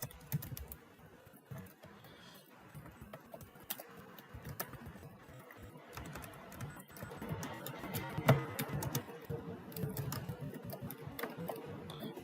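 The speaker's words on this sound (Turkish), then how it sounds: "Şu an rastgele yazıyorum." Random typing on a computer keyboard, a quick irregular stream of soft key clicks heard close, with a faint background hum and no speech.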